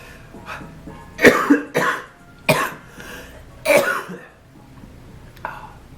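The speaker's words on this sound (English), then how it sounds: "when I get nervous, I cough a lot" A nervous person with asthma coughs close to the microphone, four harsh bursts in quick succession, some doubled, followed by a quieter pause and a faint trailing throat sound.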